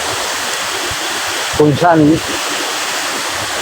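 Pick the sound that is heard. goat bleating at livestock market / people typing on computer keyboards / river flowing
river flowing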